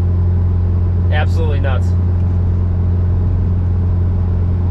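A fully built big-turbo Mazdaspeed6 at wide open throttle, hitting about 41 psi of boost: a loud, steady engine drone and rumble throughout, with a short spoken remark partway through.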